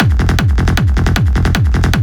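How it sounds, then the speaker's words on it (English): A heavy, distorted hard techno kick pounds in a fast steady four-on-the-floor pattern, each hit with a deep pitch-dropping bass tail, loud and continuous. "my kick bass sounds like this"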